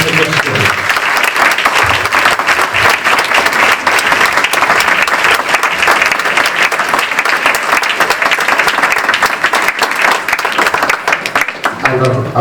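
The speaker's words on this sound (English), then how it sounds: "I'm going to ask you to give a very warm round of applause to Professor Gus John" A large audience at an awards evening gives loud, sustained applause for an arriving speaker, dense clapping filling the hall throughout with crowd noise underneath.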